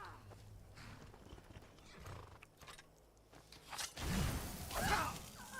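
Horse from the Skyrim video game: a rustle and soft hoof clatter early on, then a louder burst of snorting or whinnying movement near the end, fairly close.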